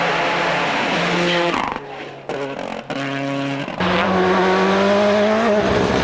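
Rally car at the Monaghan Stages Rally 2004 in Ireland, driven on tight, narrow terrain with locking wheels. The engine revs loudly and up close through gear changes, with a short cut in sound before it roars back.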